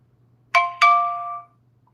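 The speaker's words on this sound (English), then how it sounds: "oh God, now why is somebody just now texting me when I go live?" A phone sounds a text message notification: two quick bright electronic tones, the second ringing out for about half a second, clear and close in a quiet room.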